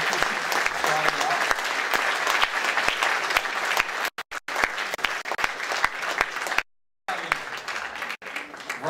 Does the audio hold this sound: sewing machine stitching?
no